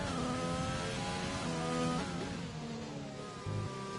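Race car engines whine past on the Zandvoort circuit in a racing video game, a sustained moderate engine drone with pitch shifts as one car overtakes another, no voices.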